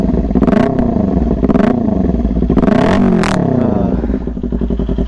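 A 2018 Kawasaki Ninja 250 with an SC Project slip-on exhaust revs hard and loud close by, with sharp throttle blips and a crackling, rasping note.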